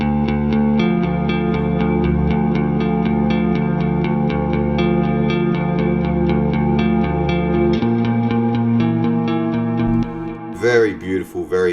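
A clean ambient electric guitar runs through the Neural DSP Archetype Mateus Asato plugin, shimmering with chorus, echo and reverb as a steady picked pattern rings out, then a brief bend-laden phrase closes it.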